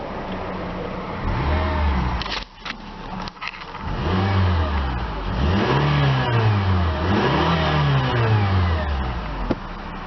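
A 2008 Honda Accord engine is revved several times, each burst climbing in pitch then falling back toward idle, loud and close, after a short stop-start stutter early on.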